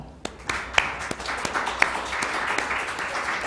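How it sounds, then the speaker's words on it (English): Scattered claps build into a steady round of crowd applause that continues to the end. "let's have a quick round of applause for Aidan Mouat."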